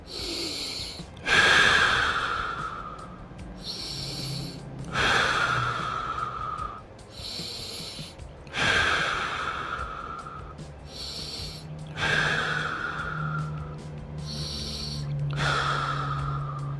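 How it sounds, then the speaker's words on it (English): Heavy, forceful breaths during a yoga session, five in a row, each a loud rushing exhale near the mic with quieter inhales between, evenly paced a few seconds apart. "Let's get 5 breaths here."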